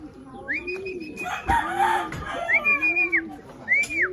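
Racing pigeons call in short, swooping notes that rise and fall, with low, soft coos beneath, fairly close and repeating through the clip.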